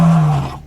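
A Pachycephalosaurus call from the video game Dinosaur Simulator: one loud, drawn-out bellow with a strong low tone that slowly falls and fades out inside a second, heard alone.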